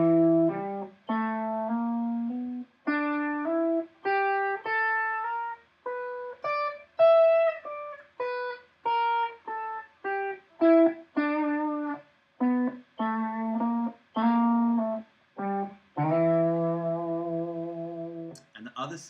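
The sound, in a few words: guitar playing E blues scale with sharp fourth note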